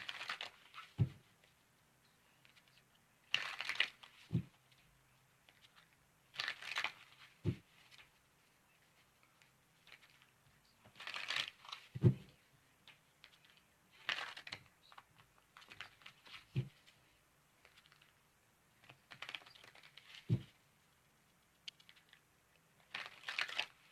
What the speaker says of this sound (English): give me a moment while I shuffle up the cards